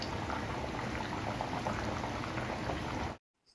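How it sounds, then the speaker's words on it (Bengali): Potato curry (aloo dum) gravy boils hard in a pot with a dense, continuous bubbling and popping, loud and close for about three seconds before cutting off abruptly. No talk is present. "আর এবার টকবক করে এটাকে ফুটতে দেবো, যাতে ঝোলটা একটু কমে গ্রেভি হয়ে আসে।"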